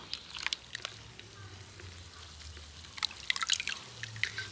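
Neem leaf juice drips through a net mesh strainer, soft wet patters and small trickles close up and faint, coming in scattered clusters over a low background hum.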